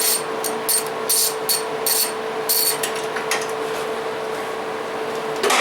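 Ratchet wrench with a 1/4 inch drive 10 mm socket working on a Toro mower, giving short bursts of rapid clicking in an irregular rhythm over a steady background hum, close and clear.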